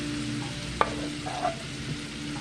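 Garlic sizzles in a hot pan on a stovetop with a steady frying hiss and a couple of sharp clinks and scrapes from stirring. It sounds close, with no talk.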